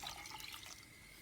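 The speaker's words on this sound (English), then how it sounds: "I'm gonna add 2 cups of water" Water is poured into a cooking pot, about two cups, in a steady, soft, hissing splash that fades away toward the end.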